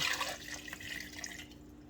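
Water is poured from a container into peanut butter before processing, a soft trickling splash that is strongest at first, then thins to quiet drips before fading out.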